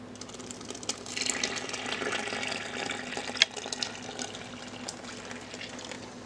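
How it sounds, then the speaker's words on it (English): Liquid laundry detergent pours steadily into a bucket with a continuous splashing gurgle, close by, with a brief knock partway through and no voices. "we're going to pour it right into our bucket"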